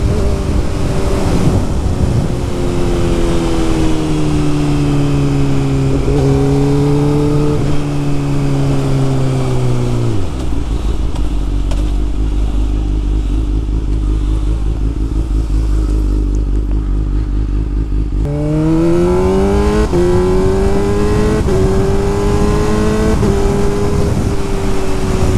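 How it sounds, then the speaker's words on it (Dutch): Honda CB600F Hornet motorcycle with a Healtech quickshifter accelerating hard, engine revs climbing in steady steps with quick clipped gear changes, a drop to a lower drone midway before pulling up again, loud and close with wind rush throughout. "En zo klinkt de quickshifter."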